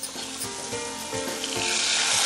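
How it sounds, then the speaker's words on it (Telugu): Milk hits a hot pan and sizzles loudly, the crackling hiss swelling and growing brighter and denser over a couple of seconds, with no talking. "మిల్క్ తీసుకొని ఇందులో వేసేయాలి"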